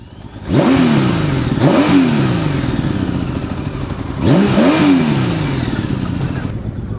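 A Honda Valkyrie motorcycle engine, ridden just after an oil change, revs up twice in strong throttle blips. Between them it settles into a loud, steady, close-up rumble.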